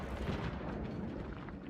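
A dull, rumbling explosion booms in the video game Space Marine 2, a dense burst of noise that fills the moment and fades unevenly, with no talk over it.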